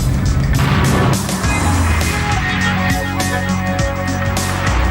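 A Vauxhall VX220 sports car with a 2-litre turbocharged 200 bhp engine drives along, its engine giving a loud, continuous, close rumble with rough broadband road noise and no talk over it.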